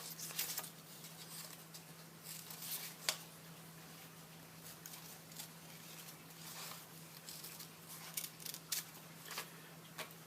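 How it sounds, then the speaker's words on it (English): Scissors snipping paper in a craft session, a steady low hum underneath with intermittent faint crisp cuts and rustles close by, no talking. "we're going to cut around it."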